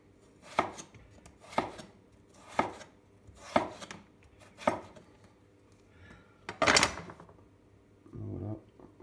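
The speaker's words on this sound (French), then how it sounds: "pour les frites, on prend les pommes de terre Binch qu'on va couper en lamelles" A knife slices Bintje potatoes into strips for homemade fries, about seven crisp, evenly spaced chops on a board, close and clear over a quiet room, followed by a softer muffled thud.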